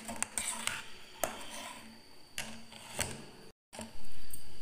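Chopped bread slices are mixed in a cooking pot, with scattered scraping and clinking strokes of a spoon against the metal, close and moderately quiet, with no talking.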